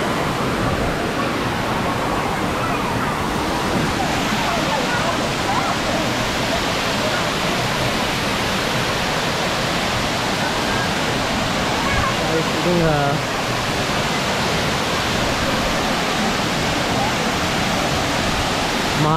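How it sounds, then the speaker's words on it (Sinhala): Dunumala Ella waterfall runs strong after rain, a loud, unbroken roar of falling water that fills the whole scene at close range, with faint voices now and then beneath it. "මාරම වතුර සැරක් තියෙන්නේ අද."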